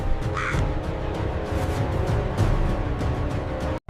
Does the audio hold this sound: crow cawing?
yes